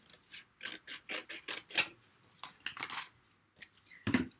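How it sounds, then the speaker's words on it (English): Scissors snip through paper during card making. The close, crisp cuts come in a quick, fairly regular series, then pause before one last sharp snip, with no talking. "I'm just whizzing around with my scissors"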